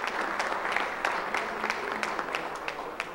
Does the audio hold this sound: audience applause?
yes